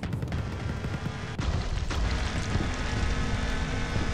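A propeller airplane drones steadily in the World War I setting of Total Tank Simulator, a loud continuous engine roar with a sharp bang or impact near the middle.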